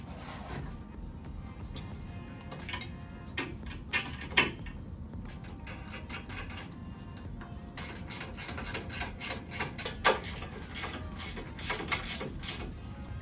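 A ratchet clicks in quick, uneven bursts of sharp ticks while tightening the intercooler mounting bolt with a washer on a Track Dog Racing supercharger kit for an NA Miata, close up and fairly quiet, with no talking.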